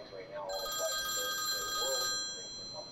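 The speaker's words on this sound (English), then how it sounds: "The phone rings." A telephone bell rings in a quiet living room at night, a bright sustained electronic trill lasting about a second and a half, with narration spoken around it.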